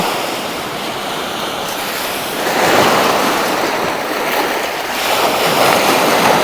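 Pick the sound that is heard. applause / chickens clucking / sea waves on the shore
sea waves on the shore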